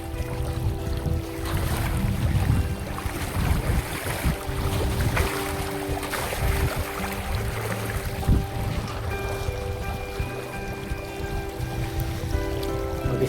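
Someone wades through a flowing river over slippery stones, with water rushing and splashing continuously and a cold wind blowing across the scene; no voices.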